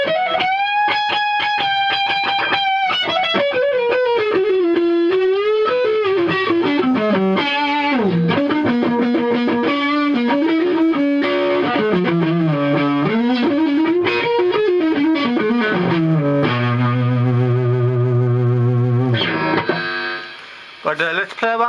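An electric guitar on its neck pickup at full volume drives a Gollmer Fat Dist distortion pedal, playing loud, sustained, singing lead lines that bend and slide, then ring out on a held note before stopping abruptly.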